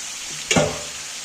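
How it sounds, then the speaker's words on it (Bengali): Chicken sizzling in a pan with a brief scrape of stirring, a steady frying hiss with a single short stir near the middle, close and without speech. "মাংসটাতে নাড়াচাড়া করতে পারবো কষিয়ে নেবো ভালো করে"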